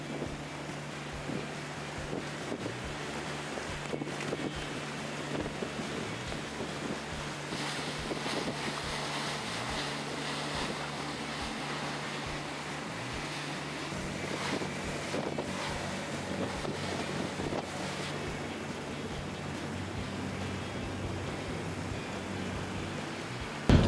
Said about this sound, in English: We've got a force 8 gale blowing, but we're going to give the boat a run out anyway